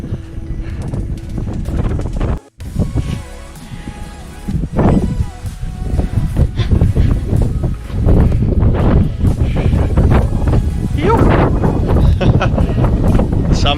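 Strong gusting wind buffets the microphone on the summit of Mount Owen in West Tasmania, a loud rumbling roar that swells and drops, with a brief dropout and a few voices underneath.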